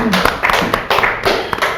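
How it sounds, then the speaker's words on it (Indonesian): A small group claps for the Rejang Lebong police public relations team during a talk-show event, a short run of rhythmic hand claps close by. "Tepuk tangan dulu nih buat tim Humas Polres"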